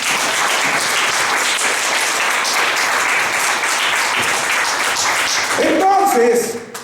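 Church congregation applauding, steady dense clapping filling the space for several seconds, then a voice rising over the fading applause near the end.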